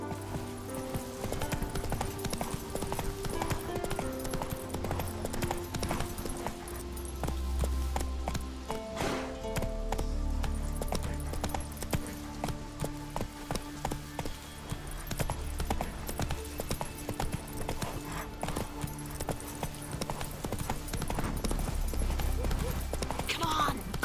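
Roach the horse gallops in Witcher 3, hooves clip-clopping in a steady rhythm under dense game music and ambience, with a voice talking over it.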